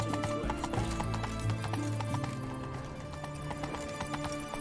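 A horse gallops in the video game The Witcher 3, its hooves beating a rapid, steady clip-clop close by, mixed with a faint whinny and game ambience, with no talk over it.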